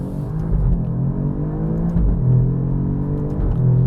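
An Alfa Romeo Giulia Quadrifoglio with a new mechanical differential drives along with a loud, continuous engine drone and road rumble from inside the cabin, its pitch stepping up and dipping slightly as it shifts through gears.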